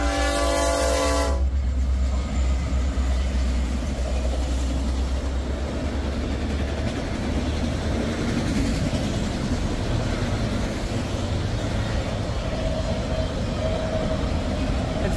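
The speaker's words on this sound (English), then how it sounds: "here comes another train." A Norfolk Southern freight train passes at Poorman Road, opening with a loud horn blast and then a steady, close roar of rolling wagons with rail clatter that fills the whole stretch.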